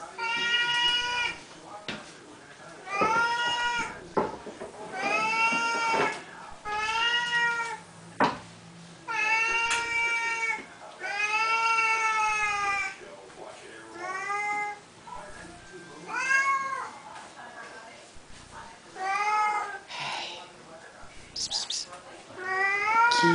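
Repeated Siamese cat meows at feeding time, loud and close, coming in a steady series of drawn-out cries with short pauses between them.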